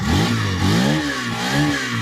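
A Hero Xtreme 160R 4V 2024 motorcycle engine revs up and down several times close by, loud and steady with no talk.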